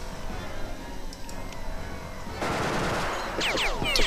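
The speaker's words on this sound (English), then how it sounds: "Because there's shooting happening here." Gunfire in the tactical game Jagged Alliance 2 Wildfire: rattling bursts of automatic fire swell into a louder rapid volley near the end, heard without speech over a low ambient background.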